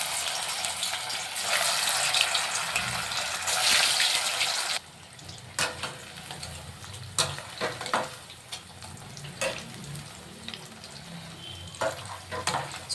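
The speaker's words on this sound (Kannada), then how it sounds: "ಈಗ ಫ್ರೈ ಮಾಡ್ಕೊಂಬಿಡೋಣ ಒಂದೊಂದಾಗಿ." Chicken kabab pieces frying in hot oil in a home kitchen: a loud, steady close-up sizzle that drops as pieces go in, then continues in softer bursts alongside sharp clinks and stirring scrapes.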